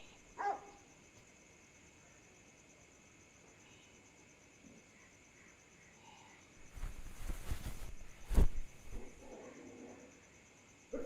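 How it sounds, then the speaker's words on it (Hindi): Dogs in a rural Indian village bark in a brief burst around the middle, fairly distant and faint against a quiet night with steady insect chirping. "तुम्हारे यहाँ के कुत्ते भी ना, मतलब जाड़े में आराम नहीं कर सकते, काटने को दौड़ते रहते हैं हर समय"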